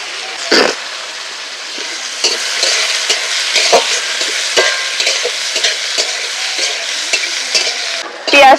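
Whole spices and onions frying in hot oil for a Sundarbans crab curry, a continuous close sizzle with scraping stirs and clinks of a utensil against the pan.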